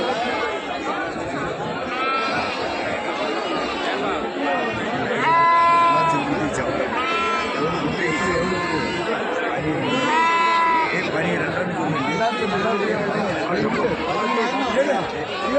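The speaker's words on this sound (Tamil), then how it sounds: "கட்டியார்பட்டி ஆட்டுச் சந்தை." Goats bleat repeatedly over a busy crowd of chattering voices at an outdoor Saturday goat market in Rettiyapatti, Tamil Nadu.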